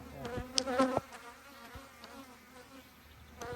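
Honey bees buzz around hives on a bee farm in a soft, intermittent drone, with brief louder passes close by over a quiet background.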